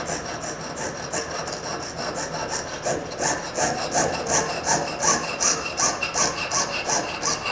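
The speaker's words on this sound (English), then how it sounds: "I want to keep sawing" Rhythmic rasping strokes of a fine saw cutting through material, steady back-and-forth, growing slightly louder and more regular as it continues.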